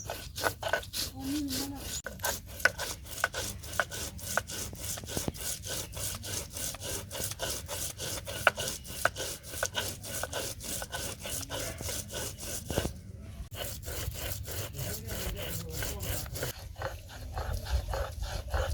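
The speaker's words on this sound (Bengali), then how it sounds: "আদা জিরা বেটে নিব।" Ginger and cumin being ground into a paste on a stone, a rhythmic, rasping back-and-forth scrape repeated steadily throughout, close and fairly quiet.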